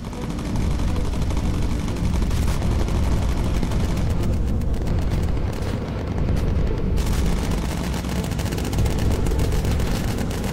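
Bomber guns in the Bomber Crew video game fire in sustained bursts during a Dambusters raid: dense, loud, continuous gunfire with booming blasts that barely lets up.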